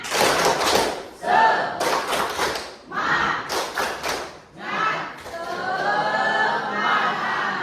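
A classroom group does a rhythmic spirit clap, several loud bursts of clapping and thumping in quick patterned sets, separated by short pauses.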